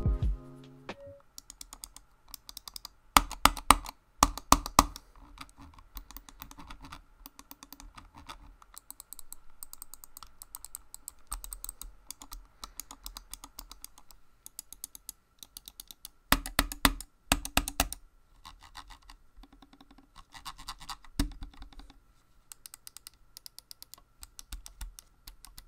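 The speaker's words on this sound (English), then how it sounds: "the buttons in the G Pro sound and feel like they have a much more pronounced actuation" Sharp mouse button clicks from a Logitech G Pro Wireless and a Razer Viper Ultimate gaming mouse come in quick, close clusters and rapid runs, with quieter scattered clicks between bursts and no talking.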